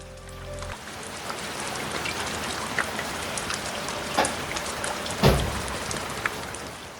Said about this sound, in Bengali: কিন্তু বাইরে এই অকাল বৃষ্টি আর ঠান্ডায় হাত পা জমে যাচ্ছে।